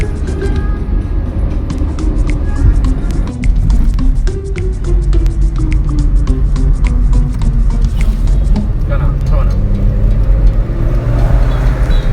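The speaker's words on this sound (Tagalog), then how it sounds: "Look at the traffic." Road traffic in Iligan City in the southern Philippines rumbles along loud and close, a continuous low engine drone with passing vehicles and a few brief clatters layered over it.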